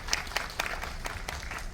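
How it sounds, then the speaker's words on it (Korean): Audience applause greeting two sign-language interpreters at a Korean film stage greeting for 청설, a short burst of scattered claps in a theater, moderately loud and steady. "두 분께도 우선 큰 박수 부탁드립니다."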